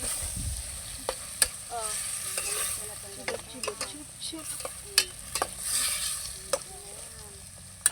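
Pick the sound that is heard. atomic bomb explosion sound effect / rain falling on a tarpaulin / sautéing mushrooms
sautéing mushrooms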